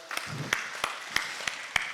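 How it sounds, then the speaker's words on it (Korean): A church congregation at a Korean prayer retreat claps, a sparse run of about half a dozen distinct, fairly soft hand claps spaced a few tenths of a second apart. "우리 하나님 앞에 영광의 박수 올려드립니다."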